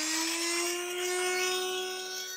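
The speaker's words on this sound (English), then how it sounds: "Did I hear a drill?" A power drill runs continuously with a steady high-pitched motor whine and a faint slow swell in loudness, close and alone with no talking.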